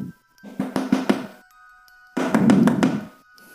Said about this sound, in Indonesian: terdengar ketukan berulang-ulang dari luar